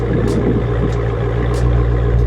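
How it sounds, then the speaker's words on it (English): Steady low exhaust rumble from a 2020 widebody Dodge Challenger ScatPack 392 after startup, idling close and loud with a continuous deep drone and a few faint high clicks over it. "so we're gonna do a exhaust startup"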